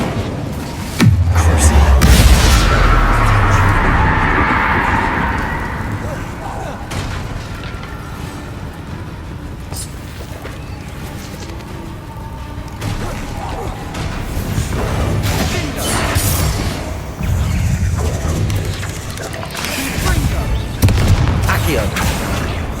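Incendio fire spell bursting in Hogwarts Legacy, a loud booming whoosh of flame that swells then fades into a rumbling battle mix of crashes and impacts, with voices calling spells over it.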